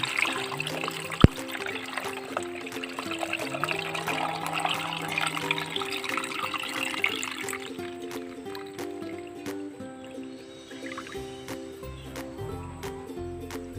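Cooled water is poured into a jar holding 38 eggs for salting, a close, continuous trickling stream that thins out and stops partway, leaving faint drips and clinks.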